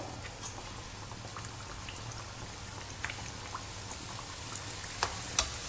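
Griwech butterfly pastries fry in medium-hot oil, giving a soft, steady bubbling sizzle with scattered faint pops and crackles, fairly quiet and without talk.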